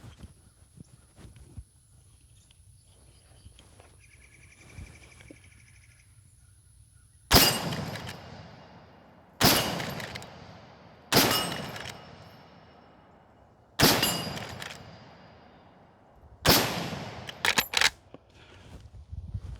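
Five sharp gunshots from a Marlin lever-action rifle ring out alone at uneven intervals after a quiet stretch, each loud crack trailing into a brief echoing decay.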